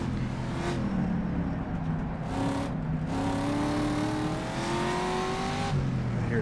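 Race cars in the rFactor racing game climbing a hill on the 1967 Targa Florio road course in Sicily, engines rising and falling in pitch as gears change, a steady loud drone with several cars audible and no talk.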